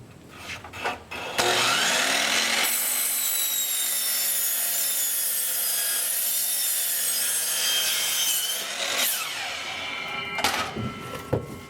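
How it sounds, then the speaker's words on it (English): A power saw cuts dados into a wooden board in a workshop while making trim work for a vinyl siding J channel. It starts with short bursts, then gives a loud, sustained whining cut for several seconds, and ends with more brief spurts and no talk. "let's go out to the shop and start cutting some dados"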